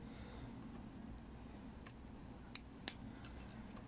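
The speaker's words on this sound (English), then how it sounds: "Now I'll cut all the materials that I don't need." Scissors snip fly-tying materials at a vise, giving three or four small, crisp, quiet clicks spaced apart over a faint room hiss.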